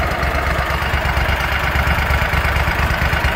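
A small engine warmed up for about two minutes runs at roughly 1,000 RPM, giving a loud, close, continuous idling drone with a low, even pulse and no break.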